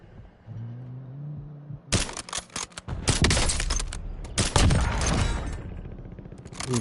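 Call of Duty gunfire rings out in repeated loud bursts of rapid shots and cracks after a quiet opening, forming a dense fusillade that carries on to the end with no talk.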